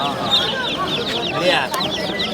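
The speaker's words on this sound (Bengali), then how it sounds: "ওইগুলো আপনার লাল মুরগি লাল মুরগি না" Red chickens clucking at a busy bird market in Mirpur, Dhaka, a loud, close flock giving continuous overlapping clucks with people talking nearby.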